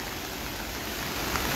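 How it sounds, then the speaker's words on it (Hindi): The Suketi stream, swollen after heavy overnight rain, rushes as a steady broadband roar of water, even and unbroken for a short stretch with no voices. "जो सुकेती खड्ड है पूरी उफान पर है।"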